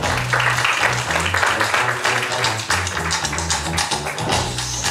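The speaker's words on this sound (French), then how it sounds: "qui me rejoint sur scène sous vos applaudissements" Steady, dense crowd clapping fills the whole stretch, loud and continuous with a low rumble of movement underneath and no clear voices.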